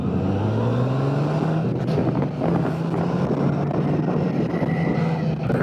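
A motorbike engine running at steady revs while riding, a continuous low throbbing drone with rising pitch early on, mixed with heavy wind buffeting on the microphone and no talk.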